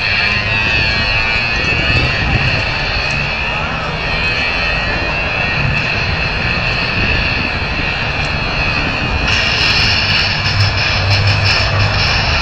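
Blue Angels jets with engines on afterburner at the Pensacola air show roar loudly and continuously as they pass, a dense rumbling jet noise growing harsher toward the end, with a faint announcer voice beneath.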